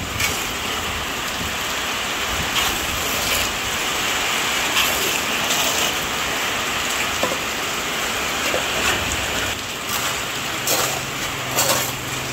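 Heavy rain pours steadily onto a tarp and surfaces outside a small shop, a dense, loud, continuous hiss with occasional louder splashes and no voices.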